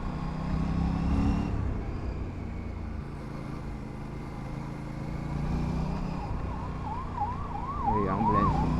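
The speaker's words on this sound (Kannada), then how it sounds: "ಆಂಬುಲೆನ್ಸ್ ಪಾಪ." An ambulance siren wails on a hilly road near Ooty, steady at first and then switching to a rapid rising-and-falling yelp as it draws closer, over rumbling road traffic.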